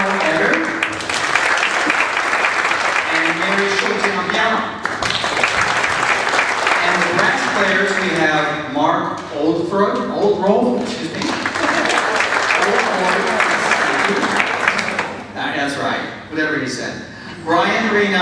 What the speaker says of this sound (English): we'll give you a little applause